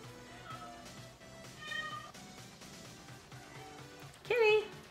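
A cat meows a few times in short sounds, the loudest one near the end, while a person talks nearby over a low steady background hum.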